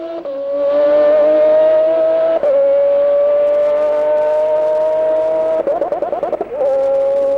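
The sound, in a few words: Toyota GT-One 1998 V12 race car engine hitting rev limiter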